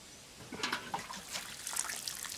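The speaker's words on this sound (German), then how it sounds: "ich muss erstmal gießen jetzt." Watering plants in the video game Len's Island, soft splashing and trickling bursts of water that start after a brief quiet pause, light and close, with small spatter accents.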